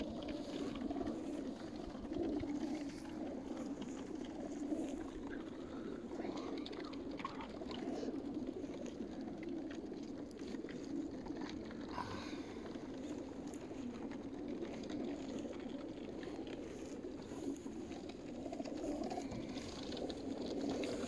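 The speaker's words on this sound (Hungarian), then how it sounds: "Elég jó energiában vannak a galambok, búgnak, menetkész állapotra kerülköztek." Racing pigeons coo in baskets before release at dawn, a low continuous layer of overlapping throaty calls from many birds, with occasional clicks and rattles of the baskets.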